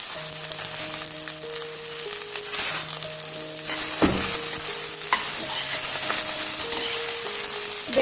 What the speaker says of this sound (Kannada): ಇದನ್ನು ಸ್ವಲ್ಪ ಫ್ರೈ ಆಗೋಕ್ಕೆ ಸ್ವಲ್ಪ ಟೈಮ್ ತೊಗೋತೈತಿ